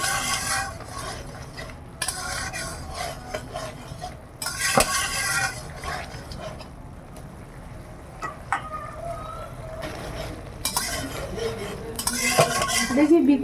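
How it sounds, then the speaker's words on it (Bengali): Onion frying in a pan with mustard, poppy seed and chilli leaves: a low sizzle under repeated scraping and clinking of a spatula stirring against the metal, close by, with no talking. "পেঁয়াজটা ভালো করে ভেজে নেই আমি সর্ষে পোস্ত আর লঙ্কা পাতাটা দিয়েছি ভালো করে একটু ভেজে নেই"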